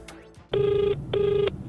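An unanswered outgoing phone call: two evenly spaced ringback tones, each about half a second long, sound clearly over a faint background with no voice.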